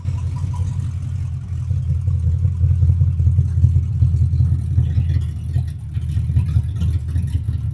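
A Ford Falcon XW with a 5-litre EFI engine runs steadily, a loud, low rumbling idle with slight rises in revs, close and continuous with no talking.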